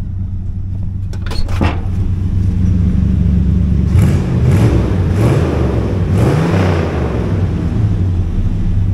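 An old truck, idle for 15 years, runs with a continuous low rumbling engine drone, close and loud, and a few brief rattling clanks near the start.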